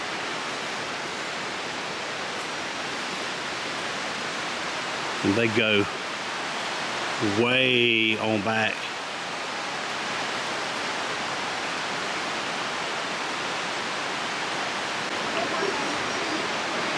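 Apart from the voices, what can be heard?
creek white water rushing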